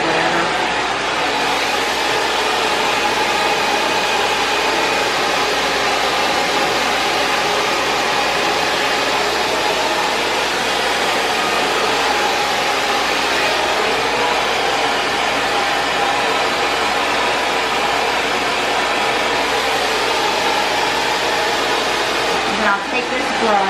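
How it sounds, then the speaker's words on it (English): A hair dryer rough-drying hair blows loud and steady throughout, a continuous close whoosh with no break. "I'm kind of giving it a rough dry right now."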